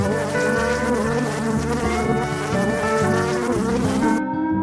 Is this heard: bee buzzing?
yes